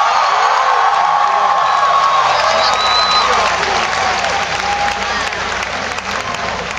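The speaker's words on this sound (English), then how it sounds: "Can everybody please give a big round of applause for Shannon for the great introduction?" A large crowd at a President Obama rally at Ohio University bursts into sustained, loud applause mixed with cheers and whoops, steady throughout and easing slightly toward the end.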